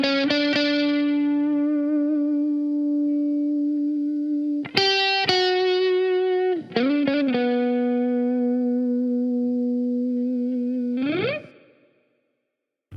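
Chapman ML1 Modern electric guitar played through its neck humbucker with effects: sustained ringing chords with chorus-like wobble and distortion, a few quick strummed changes, then a final chord that fades out to silence.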